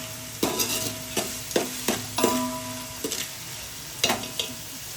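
Onions frying in a pan, a constant sizzle broken by a series of sharp scraping strokes as a spoon stirs them, roughly eight stirs at uneven intervals, close and fairly loud.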